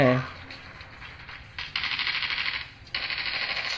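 A mobile shooting game played on a Honor X7b 5G phone fires rapid bursts of automatic gunfire in two sustained stretches, loud and close, after a brief voice at the start.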